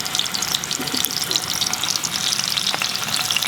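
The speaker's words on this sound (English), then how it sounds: "I'm using the cast pan because mostly for frying, shallow frying I use this pan only." Chicken shallow frying in a well-seasoned cast iron pan, sizzling steadily in hot oil, a dense crackling hiss with occasional spattering pops, close up and without any talking.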